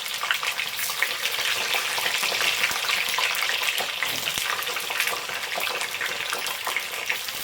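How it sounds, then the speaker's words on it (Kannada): Stuffed brinjals (Andhra-style guthokai) frying in hot oil, a dense, steady sizzle that stays loud and close throughout with occasional faint scrapes, no voices. "ಈ ರೀತಿ ನೀವು ಎಷ್ಟೆಷ್ಟು ಇಡಿಸುತ್ತೋ ಅಷ್ಟಷ್ಟು ಹಾಕ್ಕೊಂಡು ನೀವು ಫ್ರೈ ಮಾಡ್ಕೊಳ್ಳಿ."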